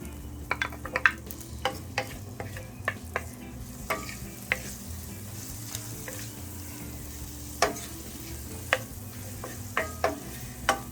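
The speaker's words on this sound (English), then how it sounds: "Saute your onion and peppers. Add your beans." Onion, peppers and beans sauté in a pan for a vegan potato and beans dish, a soft steady sizzle broken by irregular spoon taps and scrapes against the pan, close up, with no voices.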